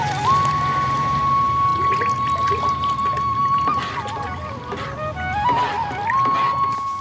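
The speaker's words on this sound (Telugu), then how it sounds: "బకెట్లో నీళ్లు పోసి తగినంత గంజి వేసి బాగా కలపాలి" Water is poured into a bucket and mixed with starch for stiffening saris, making a close, continuous pouring and sloshing sound under a steady high tone.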